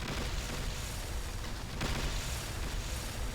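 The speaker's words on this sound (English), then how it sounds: "let's overcharge this level 3 mortar. And that AoE should be massive" Heavy level 3 mortar shells bursting in the sci-fi strategy game Siege of Centauri, a dense, continuous rumbling wall of booms with a stronger surge partway through, no talking.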